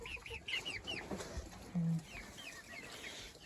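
Chickens cluck in a coop, with a rooster among them. Soft, high calls come in short clusters, and a brief low grunt stands out midway.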